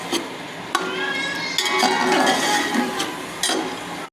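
Rice frying in oil in a cooking pot while a spoon scrapes and clinks against the metal, several sharp knocks standing out above a steady sizzle, close and fairly loud.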